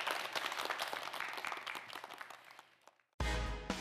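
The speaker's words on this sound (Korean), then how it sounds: "다시 한번 이현우 학생에게 큰 박수 부탁드립니다" A studio audience on a student quiz show claps briefly, moderately loud, tapering over about three seconds before an abrupt cut to louder program sound.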